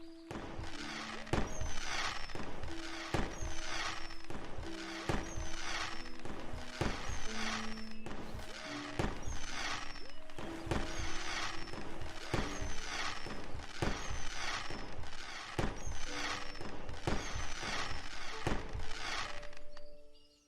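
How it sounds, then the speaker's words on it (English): Fireworks burst for the winning team in the Starbound video game, a regular series of sharp pops and crackles repeating about every second over a looping musical backdrop. "The fireworks come out to celebrate for the victory team."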